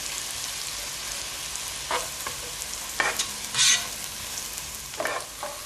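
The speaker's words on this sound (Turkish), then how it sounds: "yumuşayana kadar kavuracağız" Vegetables for patlıcan orta sauté in a pan with a steady low sizzle, interrupted by a few sharper scraping stirs and clinks of the utensil, close and moderately loud.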